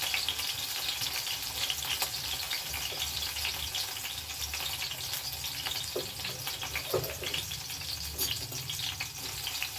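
Onion and green chillies frying in a pan for a bakery-style bread roast, with a continuous hissing sizzle and occasional faint stirring clicks.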